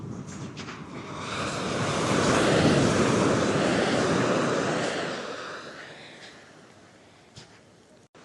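Waves wash onto Palolem beach in Goa: one broad surf surge swells to a roaring peak and slowly recedes, with some wind buffeting the microphone and no talking.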